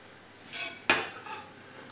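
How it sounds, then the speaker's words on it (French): Minced ginger, garlic and chili with sugar go into a pan for Cantonese braised pork: a soft scrape, then a single sharp metallic clink of utensil on pan, fading quietly with no talking. "On met le sucre. Et on va mettre le mélange gingembre, ail et piment qu'on a émincé."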